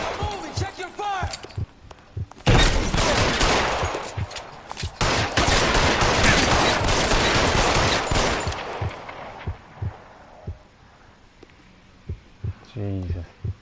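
Rapid gunfire erupts in L.A. Noire, a loud sustained volley lasting several seconds between isolated shots and thumps, with voices speaking before and after.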